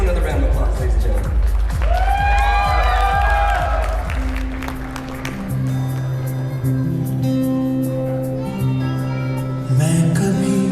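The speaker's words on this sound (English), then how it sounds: "Let's give another round of applause, ladies and gentlemen." Wedding guests at a resort clap and cheer in a brief burst of applause at the start, then it fades under talking, with a voice over a speaker and background music carrying on afterward.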